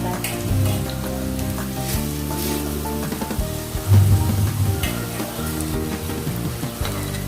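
Taro leaf rolls (alu vadi) made with gram and rice flour frying in oil, a loud continuous sizzle close up with a few louder bubbling bursts and occasional utensil clinks.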